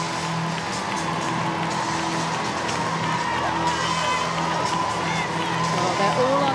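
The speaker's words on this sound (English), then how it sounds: "as they come out to rapturous applause from the former players and everyone who's come out here in the crowd" Spectators at the Oxford versus Cambridge women's varsity rugby match applaud and cheer in a large crowd, a continuous roar of clapping and voices with a commentator talking over it.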